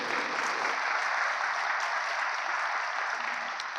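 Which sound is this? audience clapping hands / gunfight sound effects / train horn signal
audience clapping hands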